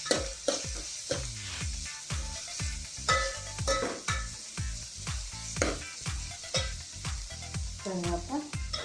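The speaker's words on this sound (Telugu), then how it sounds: "ఇప్పుడు మనం కట్ చేసుకున్న పచ్చిమిరపకాయలు వేసుకుంటాం." Chopped green chillies fry in a pan, a close steady sizzle broken by rhythmic stirring strokes and scrapes against the pan every half second or so.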